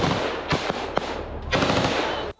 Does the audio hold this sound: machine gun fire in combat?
yes